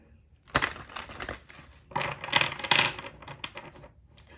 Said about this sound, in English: So Spirit, wait, we need one more shuffle.